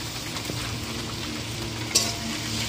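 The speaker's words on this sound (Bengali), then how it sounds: "এবার আমি বেটে রাখা রসুনটা দিয়ে দেবো।" Garlic paste added to young jackfruit frying in oil in a pan. A steady close sizzle runs throughout with soft stirring scrapes and one sharp metallic clink of a utensil against the pan, with no talk.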